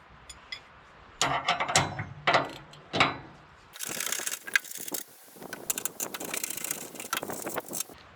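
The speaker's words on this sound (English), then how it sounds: "Now we remove the conveyor hinge bolts." A ratchet wrench with a 15/16 socket loosens the conveyor hinge bolts on a Cord King firewood processor. A few separate clusters of ratcheting turns are followed by a longer run of rapid clicking, close and clear.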